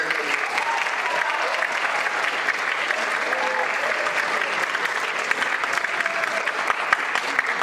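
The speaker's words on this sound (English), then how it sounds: "let's give these parents a big round of applause" A high school athletic signing event audience claps for the parents, giving sustained, even applause with steady crackling claps throughout and a faint murmur of voices underneath.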